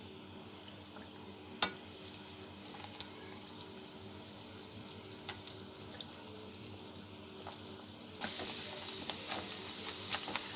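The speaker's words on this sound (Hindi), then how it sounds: "जो बेसन वाली साइड है ना, उसको हमने नीचे रखना है। और इसको हमने फिर चम्मच से चलाते जाना है।" Lahori katlama, a besan-coated flatbread, sizzles softly in a pan over low flame while a spoon stirs and presses it, adding scattered light clicks and scrapes. The sizzle grows louder and brighter near the end.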